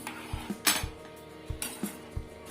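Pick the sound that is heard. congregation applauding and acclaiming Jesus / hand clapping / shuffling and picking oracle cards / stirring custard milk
stirring custard milk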